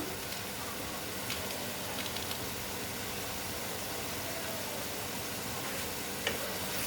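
Kashmiri red chilli powder sautéing in a pan for matar paneer, a steady, even hiss of frying with only a few faint spoon touches, close and continuous.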